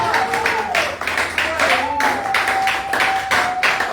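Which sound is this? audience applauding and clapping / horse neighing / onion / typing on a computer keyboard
audience applauding and clapping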